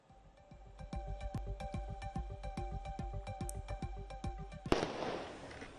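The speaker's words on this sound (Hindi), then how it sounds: "आतिशबाजी की आवाज आप सुन सकते हैं। पटाखे फूट रहे थे" A fast, dense string of firecracker pops crackles steadily, ending in a loud burst and a hissing, fizzing rush from a nearby firework, at a village home celebration of Neeraj Chopra's javelin silver.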